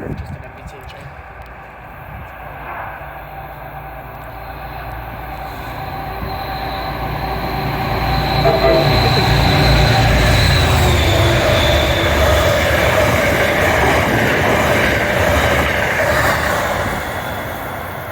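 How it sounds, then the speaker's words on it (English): An MBTA commuter train rolls through Forest Hills station, a steady rumble of wheels with faint squeal that swells from about eight seconds and holds loud to the end, with some talk in the background. "Just an MBTA train."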